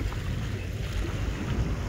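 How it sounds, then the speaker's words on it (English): Strong wind on Blackpool beach, a dense, continuous rumbling buffet that batters the microphone, loud and low throughout without pause. "A bit windy. A little bit windy."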